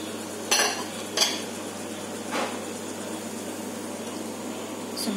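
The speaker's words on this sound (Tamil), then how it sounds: "ஸோ மஷ்ரூம் இப்போ எல்லாத்தையும் ஆட் பண்ணிடலாம். இதை நல்லா மிக்ஸ் பண்ணிக்கலாம்." Mushrooms are tipped into a pan and stirred, giving a few sharp utensil scrapes and clinks against the pan over a faint steady background hum, with no talking.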